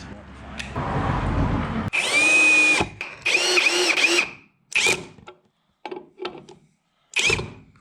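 Power drill driving coarse- and fine-thread screws into a wooden hub for a folding railcart, several loud whirring bursts of varying length separated by short pauses, close up.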